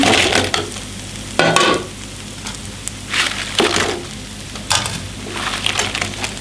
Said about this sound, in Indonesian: Kita aduk-aduk semuanya sampai tercampur rata.